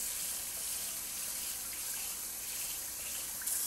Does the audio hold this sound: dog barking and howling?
no